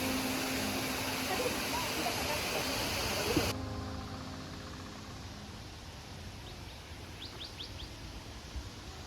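Steady broadband rush of Lovers Leap Waterfall in Nuwara Eliya, Sri Lanka fills the first few seconds, then drops to a softer, more distant wash with faint bird chirps near the end.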